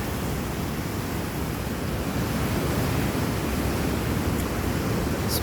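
A flooded whitewater river at about 7400 cfs, overflowing a boat ramp in a whitewater park, makes a steady, broadband roar that stays loud and unbroken from start to end, with some wind buffeting and no talking.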